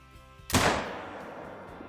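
A single rifle shot from a .7mm weapon in a video game showcase cracks out sharply and loudly, followed by a long decaying echo and tail.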